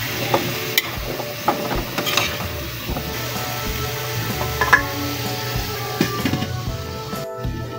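Squash and other vegetables for Filipino pinakbet stirred in a pan, with repeated scraping and knocking of a utensil against the pan over a low, soft sizzle.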